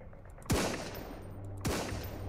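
Two loud gunshot bursts from the survival video game Sunkenland, about a second apart, each with a sharp crack and a lingering rumbling tail over steady game ambience.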